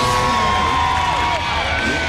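A loud, dense crowd cheers and whoops without a break at a Gravity Games freestyle event, with a few voices rising above the steady roar.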